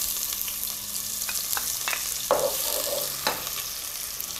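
Onions frying in oil for chicken kabsa give a continuous close sizzle, with a few sharp utensil scrapes and clinks as they are stirred in the pan.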